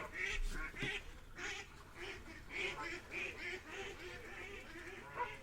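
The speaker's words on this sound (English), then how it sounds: "Ducks having a fight." Several ducks squabble in a noisy fight, harsh quacks coming in rapid overlapping bursts throughout, fairly close and loud with a low rumble beneath.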